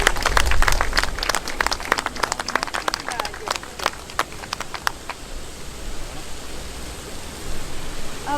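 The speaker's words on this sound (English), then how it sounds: "Please give her a round of applause." An audience claps and cheers at an outdoor community rally in Newcastle, welcoming the next speaker; dense applause with sharp individual claps fills the first five seconds and then fades into open-air crowd noise.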